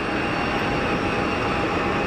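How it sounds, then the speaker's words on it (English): An Etihad Boeing 787 Dreamliner departing Geneva Airport for Abu Dhabi produces a steady, loud broadband jet engine roar, continuous and even throughout. "Etihad Dreamy heading out to Abu Dhabi."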